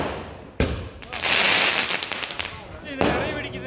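Firecrackers burst during Diwali celebrations with sharp loud bangs followed by a crackling string of rapid pops, then another sharp blast, with people talking in the background.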